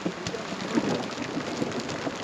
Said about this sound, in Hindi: तो कश्ती भाई के सामने हो रही बारिश है